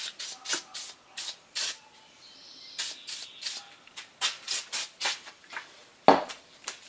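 Short hissing bursts of spray in an uneven stop-start rhythm, close by, clearing debris off a thread tap, followed near the end by a sharp clack.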